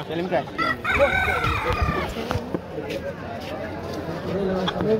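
Desi chickens cluck and a rooster crows at Chandrapur's village poultry market, calls repeating up close amid steady crowd chatter and bargaining voices throughout.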